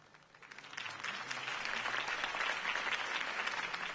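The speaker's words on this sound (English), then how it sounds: "could have heard that applause" A crowd applauding after a campaign speech, the clapping swelling from a soft start into a steady, dense ovation that holds to the end.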